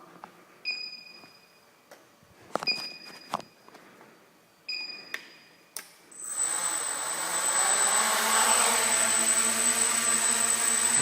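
A few short electronic beeps from a KK2 flight controller arming sound in the quiet, then a small scratch-built 270 mm quadcopter's motors spin up indoors into a loud, steady high-pitched buzzing whir that fills the room.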